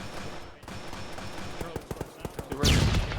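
Gunfire in the ArmA 3 military game during a room-clearing assault: a string of sharp separate shots in quick bursts, followed by a louder burst of fire, with some background chatter.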